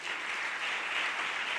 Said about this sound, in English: I want to give you a big applause,